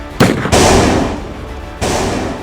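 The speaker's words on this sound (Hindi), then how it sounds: "बदमाशों ने एक के बाद इतने फायर दागे कि पूरा गांव गोलियों की तड़तड़ाहट से थर्रा उठा।" Gunshots fired by attackers in a village at night, heard as loud, close, sharp bursts, two distinct blasts with noisy reverberant tails, no voices present.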